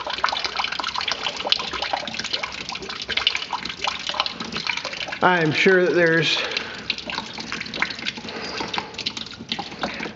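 Water trickles and drips steadily as it drains from a John Deere 820 tractor's system in the background while someone talks over it.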